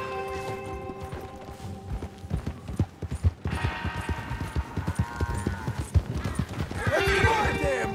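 Horse hooves clip-clop steadily at close range in the Red Dead Redemption 2 video game, a loud, continuous rhythmic trot set against a background music bed, with a brief neigh near the end.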